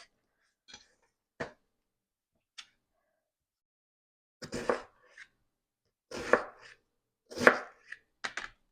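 Onions being sliced by hand for a ground beef and vegetable casserole: sparse, sharp knife chops, a few single taps then clustered bursts of cutting, close and alone with no talk.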